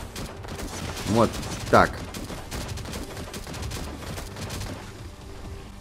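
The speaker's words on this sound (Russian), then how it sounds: "подрывника я стреляю" Gunfire at an enemy bomber in the survival game Last Day on Earth, a couple of sharp loud shots followed by quieter scattered game noise, with someone talking briefly.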